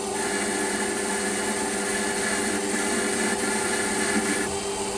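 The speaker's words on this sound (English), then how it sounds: "Lathe running in reverse," A metal lathe running in reverse with a boring bar cutting inside a part for a sawmill guide bearing, a steady loud mechanical hum and whine that continues unbroken without talk.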